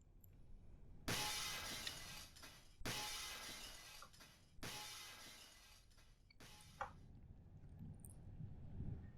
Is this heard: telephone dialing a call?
no